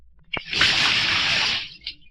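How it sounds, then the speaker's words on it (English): Water from a pitcher splashes down onto a person in one sustained pour, a broad hissing splash lasting about a second and a half, followed by a faint dribble; no voices. "He snatched a pitcher of water from the speaker's table and dumped it on Old Witch."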